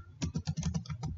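Typing a short command into DOSBox on a computer keyboard, about nine quick, close keystrokes in an even burst, each a crisp tap, with no talking over them.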